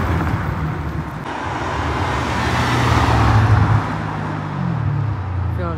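A Ferrari 812 Superfast drives past on a road in Luxembourg, its engine a loud, close roar that builds and then fades amid steady traffic noise.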